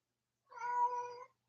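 A single cat meow, clear and fairly close, rising and fading over about a second in an otherwise quiet room.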